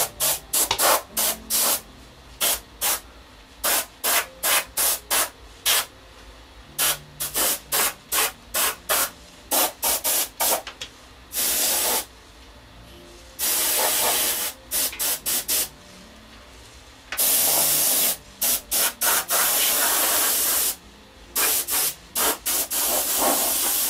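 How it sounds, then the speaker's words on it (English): An airbrush driven by an air compressor sprays paint onto ceramics in repeated short hissing bursts with brief pauses, then several longer sustained sprays, loud and close. "you don't want to have like a real thick spray"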